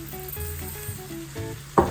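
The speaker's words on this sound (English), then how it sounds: "And now we'll stir it through all that flavour, coat and cook it a little bit" Arborio rice sizzles in a pan on low heat as it is stirred through garlic and bacon, a soft crackling with a brief scrape of the spoon near the end.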